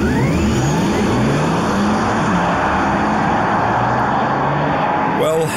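Synthetic engine sound piped through the cabin speakers of a Porsche Taycan electric car, a loud, steady rising whir and drone with climbing harmonic tones, as if under full throttle, continuous throughout.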